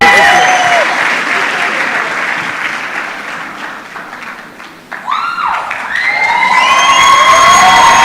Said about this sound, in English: Round of applause for Joytown.